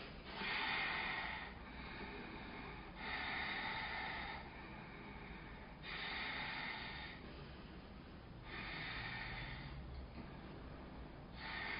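Strong, even yogic breathing, with full, forceful inhales and exhales alternating in a slow steady rhythm, each breath a close, airy rush lasting a second or two.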